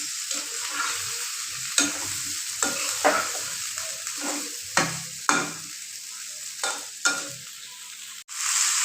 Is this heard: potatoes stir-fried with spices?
yes